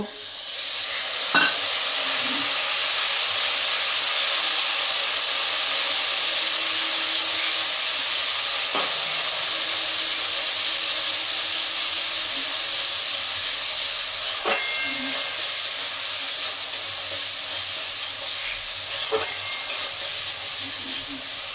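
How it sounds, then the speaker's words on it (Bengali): Water poured onto a fried spice paste for ghugni sizzles and steams with a loud, continuous hiss that holds for about twenty seconds, broken by a few light clinks of a spoon against the pan. "দেখো মশলাটা আমার কষা হয়ে গেছে। এতে একটু আমি সামান্য জল দেব।"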